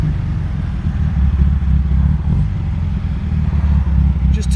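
A 1962 MGA 1600 Mk. II engine runs steadily while driving, a continuous low, rumbling drone that holds near and fairly loud throughout without clear revving.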